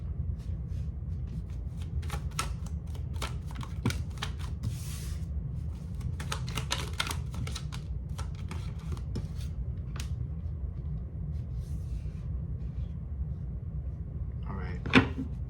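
Traditional tarot cards being shuffled and pulled, giving soft riffling flutters and sharp card snaps spread through a steady low background hum, with one louder slap near the end.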